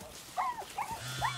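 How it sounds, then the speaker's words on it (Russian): Dogs in the video game Far Cry 6 give a few short barks and yelps at moderate distance, three quick calls over a low background hum with no talking. "Собаки."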